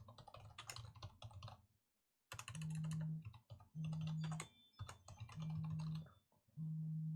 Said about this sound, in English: I can type something out, testing Parler.